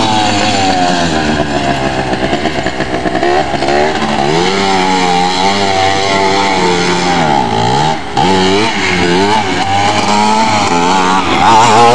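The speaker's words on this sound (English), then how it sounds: "Riding my four-wheeler. 260 Yamaha Blaster." A 260 Yamaha Blaster four-wheeler with a fresh top and bottom end is ridden close by, its two-stroke engine screaming loudly with repeated revving swells and dips in pitch.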